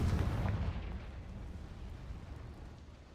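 The Confringo fire spell explodes in Hogwarts Legacy with a single deep, heavy blast. It rolls out into a long rumbling decay, and no voices are heard.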